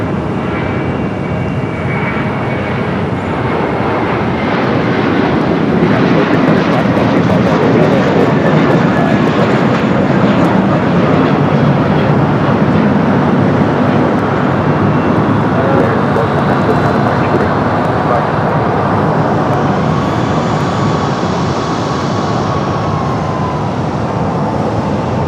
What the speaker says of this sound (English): At the American A321, a flight heading to Boston up next.